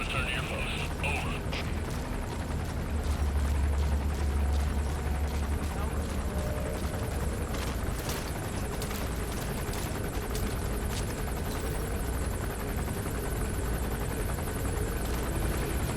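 Constant rotor thrum from a helicopter flying in Metal Gear Solid 5: The Phantom Pain fills the background, with occasional distant game effects and someone speaking over it.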